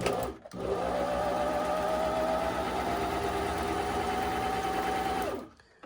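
EuroPro Shark PT2 serger stitching fabric: a fast, steady mechanical whir that starts after a brief pause and runs for about five seconds before stopping, close and clear, with no talk.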